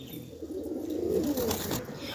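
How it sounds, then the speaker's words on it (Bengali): A large Kaldama pigeon cooing close by, a low soft rolling coo that swells through the middle and trails off, heard alone and fairly quiet. "কালদামা পায়রা।"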